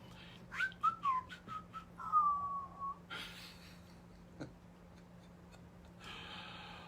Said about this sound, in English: I got to whistle till the first person comes on.